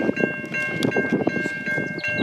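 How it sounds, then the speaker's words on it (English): Freight train nearing the Pyrenees Highway level crossing west of Elmhurst, Victoria, taking a sharp bend slowly: a steady rumbling roll with a continuous tonal ringing, likely crossing bells, heard from nearby. "So the freight train is coming from Lansborough Elmhurst right now."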